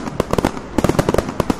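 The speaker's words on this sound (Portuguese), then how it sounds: "tudo são fogos de artifício." Fireworks sound effect: a rapid series of sharp bangs and crackles bursting in quick clusters, loud and close, with a brief pause before another volley.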